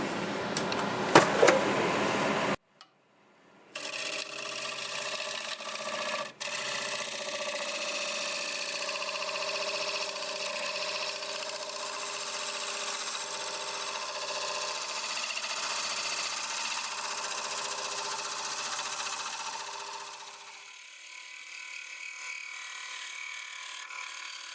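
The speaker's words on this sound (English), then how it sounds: "I'm going to use the 5/8 bowl gouge and see if we can get this all smoothed up" A 5/8 bowl gouge cutting a spinning cherry burl on a wood lathe, a sustained rough scraping whir over the motor hum for about twenty seconds, preceded by a brief clatter and tailing off softer.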